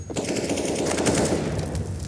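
Fast automatic rifle fire in Counter-Strike on the Inferno map during an esports match rattles out as a continuous, loud, dense volley of gunshots with no talk over it.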